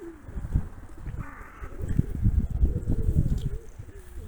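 Pigeons cooing softly near the coop as they gather for a water bath, low murmuring calls repeating through the clip alongside light rustling.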